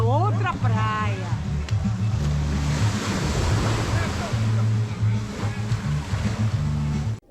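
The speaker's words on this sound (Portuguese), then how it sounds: "Não dá nem pra chegar ali perto, o mar tá muito revolto." Rough, churning sea surf at Maragogi beach: a steady, loud wash of breaking waves runs through the whole stretch, mixed with wind buffeting the microphone and a low droning hum underneath.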